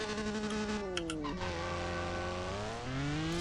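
Engine of a Pagani Utopia sports car in the CSR2 racing game, droning steadily with harmonics climbing and dropping as it revs and shifts through gears, loud and continuous with no talk.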